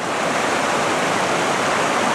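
A mountain waterfall and stream beside a rock outcropping near a Colorado lake pour out a loud, continuous broadband rush with no pauses, steady throughout.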